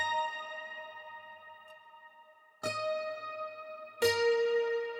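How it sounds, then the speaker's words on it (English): Acoustic guitar sample in an ambient trap beat, ringing sustained plucked notes with a long decay, then two fresh strums struck near 2.7 and 4 seconds, bright and close with no voices. "Alright, then I switched up to an acoustic guitar from Idiot If You Move."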